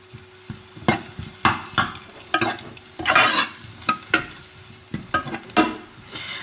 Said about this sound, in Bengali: একটু নেড়ে ছেড়ে নেবো এটা ভালো করে, সুন্দর করে নেড়ে ছেড়ে নেবো